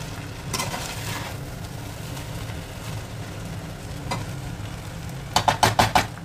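Schezwan chicken fried rice stirred and mixed in a pan, a steady low scraping and soft sizzle throughout, ending in a quick run of four or five sharp spatula clacks against the pan.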